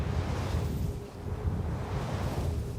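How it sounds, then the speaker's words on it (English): Steady broadband whooshing from modern wind turbine blades, a continuous outdoor roar without distinct beats, with wind buffeting the microphone throughout. "modern wind turbines produce a small amount of aerodynamic noise, like the whooshing sound you can hear"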